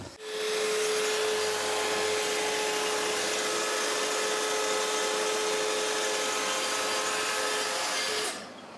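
A saw makes a 15-degree bevelled back cut through plasterboard with dust extraction running: a loud, steady whirring roar starts abruptly, holds unchanged for about eight seconds, then cuts off near the end, with no talking.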